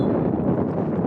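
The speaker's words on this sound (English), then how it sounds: "If it's not raining or snowing or extreme heat, it's just windy." Wind gusting across an outdoor amateur soccer match, a continuous broadband rumble buffeting the microphone for about a second, loud and close with no voices.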